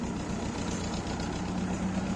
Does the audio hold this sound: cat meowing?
no